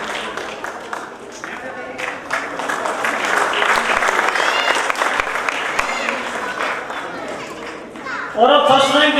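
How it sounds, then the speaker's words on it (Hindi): An audience claps steadily throughout at an Ambedkar Jayanti quiz prize ceremony, with children chattering underneath and someone speaking over the applause near the end. "जोरदार तालियां सुमन के लिए"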